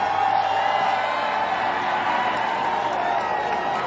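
A Midwestern crowd at a stock car race cheers a popular win, a steady distant wash of cheering, whooping and applause that holds at an even level throughout.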